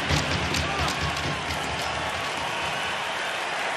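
Hockey crowd roaring and clapping after a fight on the ice, a dense, loud wash of applause and cheering that holds steady for a few seconds.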